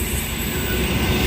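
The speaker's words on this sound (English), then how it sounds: "we have a freight train." Freight train led by locomotive 8230 rolling past a station platform, a loud continuous rumble of wagons with a thin high wheel squeal running through it.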